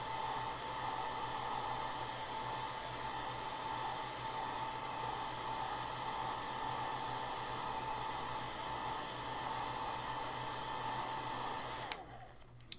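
A hair dryer blowing on wet watercolor paint, a loud steady whoosh with a constant whine held for about twelve seconds before cutting off with a brief clatter near the end.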